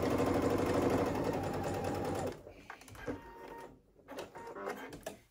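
A sewing machine stitches fabric for a tank dress in a dense, fast, continuous whir for about two seconds, then stops, leaving scattered handling clicks and rustles nearby.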